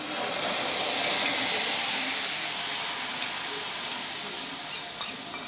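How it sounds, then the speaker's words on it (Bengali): Spice paste frying in oil in a pan for khichuri, a steady close hissing sizzle with a few faint crackles and pops near the end, unaccompanied by speech. "এবার মশলাটা তেল ছাড়া অবধি আমি ভালো করে কষিয়ে নেব"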